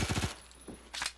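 MP5K submachine gun fire in the video game Phantom Forces: a rapid burst of several shots, then two short single reports after a gap, fairly close and loud.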